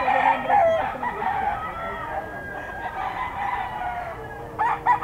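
A Gilmore Henny gamecock stag crows repeatedly at close range among other fowl clucking and crowing at a bird sale, with calls rising over a busy farmyard background.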